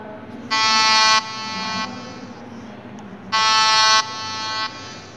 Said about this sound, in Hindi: तो ये है लाउड साउंड हॉर्न की